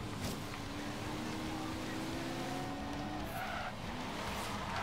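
Car drifting and skidding in the video game Forza Horizon 3, a low-geared car whose tires squeal and scrub in long sliding tones over a steady engine roar, continuous and loud throughout.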